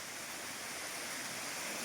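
A mountain stream in dense hilly forest rushes in a steady, even wash of broadband water noise that runs without a break and with no voices.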